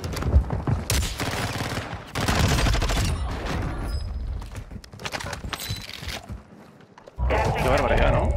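Rapid bursts of gunfire in Warzone 2.0 crack in clustered volleys with short gaps and a brief lull, under a voice talking over the shooting.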